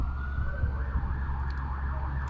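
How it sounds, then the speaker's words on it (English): A fire truck siren wails from a moderate distance, its tone rising and falling over a steady low rumble without letting up. "That sounds like that's gonna be a bigger fire truck."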